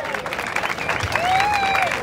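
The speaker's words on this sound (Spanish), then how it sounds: "Fuerte las palmas." An audience at a regional Lima freestyle rap battle claps steadily, a dense, continuous patter of applause with a voice calling out over it.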